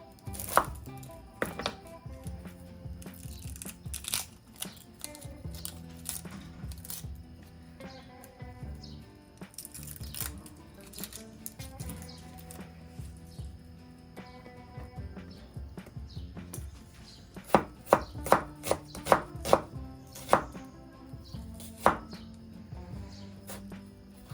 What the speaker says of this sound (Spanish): Voy a cortar una cebolla morada, que bueno, que en este caso es chiquitita, y la voy a cortar en cubitos.